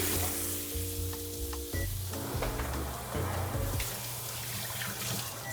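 Steady loud sizzling and crackling of steak frying in a hot pan, close by, with occasional brief metallic clinks and no talking.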